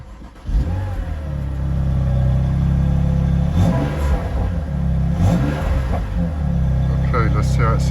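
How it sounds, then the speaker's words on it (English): BMW engine starting from cold with fresh oil, catching after a brief quiet moment and then settling into a loud, steady rumbling idle with slight revs, close up, with someone talking over it. "just starting up the Beamer"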